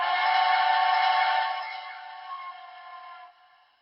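A chime-like whistle from a Southern Pacific GS Class HO-scale model steam locomotive sounds in one long sustained blast, loud then trailing off softer.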